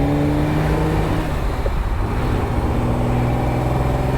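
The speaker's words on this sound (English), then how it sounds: "You've got these trumpet-like exhausts stuck out the back. And that's sort of all you can hear, really." A Ferrari 365 GTB/4 Daytona Spider with trumpet-like exhausts drones steadily while driving, its engine note close and continuous throughout with no one talking.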